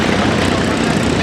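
Broadband piston-engine roar from a B-17 Flying Fortress, Sally B, with four Wright Cyclone R1820 radial engines, steady and loud throughout at an air show, no voices.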